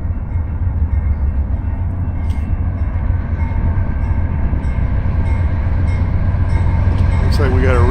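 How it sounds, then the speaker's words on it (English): A long loaded freight gondola train with four locomotives rumbles past close by with a continuous low rolling roar and rhythmic rail clatter, and a brief squeal rises near the end. "Looks like this is that long gondola train that goes through here."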